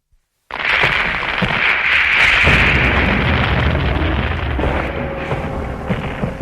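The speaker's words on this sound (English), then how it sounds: "Battle opened with this tremendous barrage that lasted for quite a long time." Artillery barrage at the Battle of El Alamein, bursting in suddenly after brief silence as a loud, continuous roar of rumbling blasts and crackle that holds without pause.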